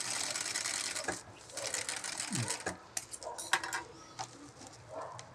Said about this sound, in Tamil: இன்னொரு தையல் கூட போட்டுக்கிறேன்